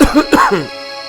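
A single short cough or throat-clearing, close and fairly loud, followed by a brief quiet hum.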